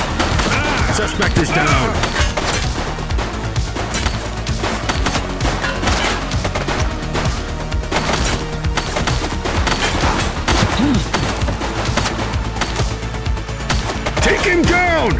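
Gunfire in the police game The Precinct: dense, continuous bursts of shots and impacts throughout, loud and close, with shouted voices and radio chatter over the firing.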